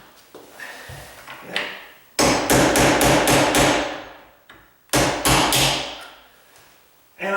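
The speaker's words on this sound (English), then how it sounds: "I'm just gonna start it with my nail set." Two bursts of sharp metal-on-metal hammer strikes on a nail set driving a door hinge pin, about five quick blows each, ringing close and loud with a pause between them.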